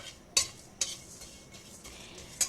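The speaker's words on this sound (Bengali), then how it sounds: "প্রথমে দারচিনি এলাচ আর লবঙ্গটা ভালো করে নেড়ে নেব" Whole cinnamon, cardamom and cloves stirred in a wok, a few sharp metal scrapes and clinks standing out over a quiet background, close and brief.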